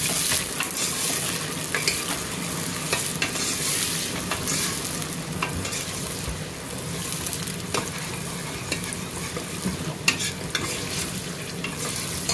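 Tomatoes fry with ginger and garlic in a pan for mash dal. A loud continuous sizzle runs throughout, with occasional stirring scrapes and clinks.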